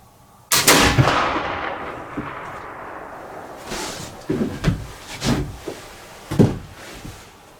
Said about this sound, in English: third shot with the 60 grains of new 3F.